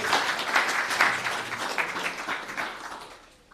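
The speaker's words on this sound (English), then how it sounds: "round of applause for Nathan" A steady round of applause from an audience at a startup pitch event, moderate and continuous, tapering off near the end.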